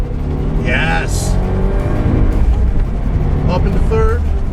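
A racing car engine revs hard and climbs in pitch, with a brief break as it shifts up into third gear, loud and close throughout, while someone talks over the engine.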